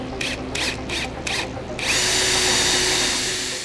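Drill boring a hole through a plywood subwoofer box, several short close bursts of whirring followed by a longer steady grinding run.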